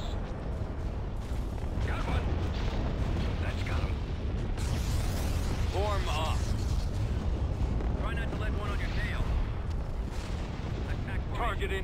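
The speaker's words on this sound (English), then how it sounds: "Ready to fire. Mon Cala cruiser here. Focus all fire. Give us a barrage." Starships fire a barrage in a Star Wars Empire at War space battle near Yavin IV, with repeated booming cannon blasts and laser bursts in a constant roar while voices talk over the fighting.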